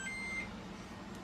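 A single short electronic beep from a GE washer dryer combo at the start, a bright tone over a steady low hum, then only the hum continues.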